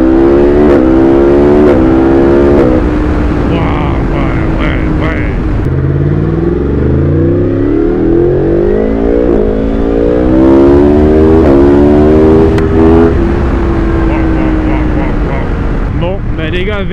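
A motorcycle accelerates hard through several gears, its engine note climbing steeply and dropping at each shift, loud and close with wind rush, while someone speaks over it now and then.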